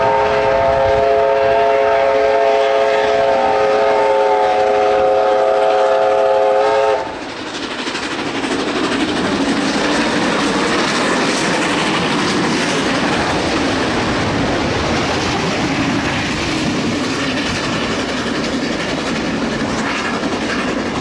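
Steam locomotive Ja 1271 in Auckland sounds a sustained whistle for several seconds, then rumbles loudly past with heavy clatter and wheel noise that fills the rest of the clip.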